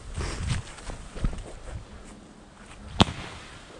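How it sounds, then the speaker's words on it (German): A single sharp bang from a BKS-certified Böller firecracker on New Year's Eve cracks out loudly after a few seconds of quiet outdoor rustling and footsteps. "Mein erster BKS-Böller dieses Jahr"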